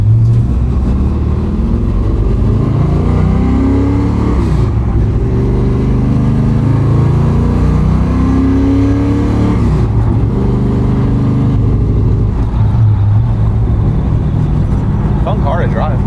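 A 1970 Ford Mustang Mach 1 engine runs steadily while driving, a loud continuous low rumble that rises and falls through gear changes, with voices speaking inside the car.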